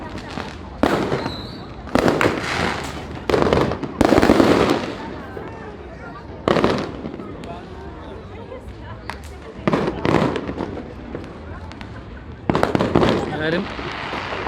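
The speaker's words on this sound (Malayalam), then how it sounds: "പടക്കം പൊട്ടലാണ്." Firecrackers burst during a New Year's night celebration on Grand Baie beach in Mauritius, with repeated loud, close bursts in irregular clusters over a steady crowd din, and people talk throughout.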